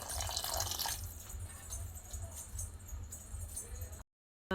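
Water poured steadily into a cooking pot for vegetable rice, a continuous close splashing gush that holds for about four seconds and then cuts off.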